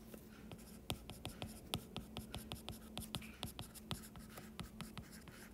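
A pen scratches out a math equation on paper, with quick rhythmic strokes and taps heard close up and quiet, and no voice over them.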